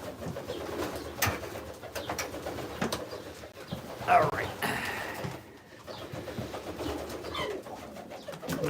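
Pigeons cooing in a loft, soft repeated coos among scattered wing flutters and clatter, with a person talking briefly nearby.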